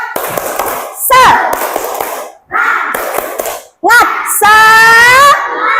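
A class of fifth-grade children in a classroom doing a rhythmic spirit clap, bursts of loud close clapping alternating with sung and shouted chant phrases in a steady pattern.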